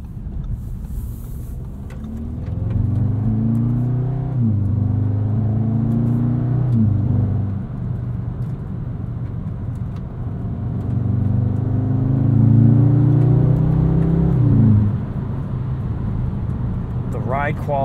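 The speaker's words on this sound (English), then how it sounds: "You can hear we get a little bit of a pop from the exhaust back there." A 2022 Audi S3 accelerates hard through rising gear pulls, its engine note climbing steadily in two long sweeps. A faint crackle from the exhaust is barely evident at the end of a pull.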